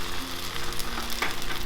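Canned tomatoes cook with sautéed onions in a pan, giving a loud, continuous sizzle and bubbling with a few stirring scrapes and no voices.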